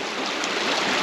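Water pours steadily from an irrigation siphon tube into a hay field, a loud broadband rushing gush that runs continuously without a break and without voices.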